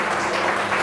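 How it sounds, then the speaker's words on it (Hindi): A brief burst of audience clapping at a public talk, dense and steady through the short moment without speech on top. "एक बार और तालियां बजा दीजिए आप"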